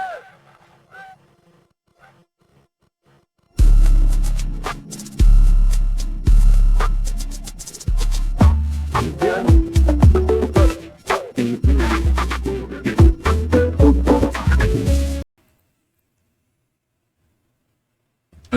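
AI-generated music sample from the OpenAI Jukebox 1B lyrics model: a loud, dense stretch of rhythmic music with percussive hits and tonal layers, starting abruptly after near silence and cutting off sharply.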